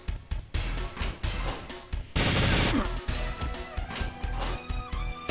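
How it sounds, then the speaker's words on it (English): Gunfire in the N64 video game GoldenEye 007, heard as a rapid series of sharp, loud shots with one longer crashing burst in the middle, all with no talk over it. "How are you going to stand there after hearing those gunshots?"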